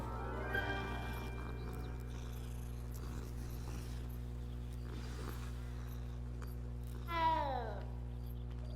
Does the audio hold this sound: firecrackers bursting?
no